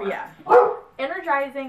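Dogs bark a few times in short, close bursts, mixed in with someone talking over them indoors.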